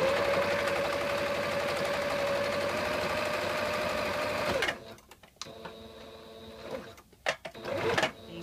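A sewing machine runs in one steady continuous burst for about four and a half seconds, sewing elastic into a swim diaper. It then stops, followed by quiet handling and a few brief clicks and rustles.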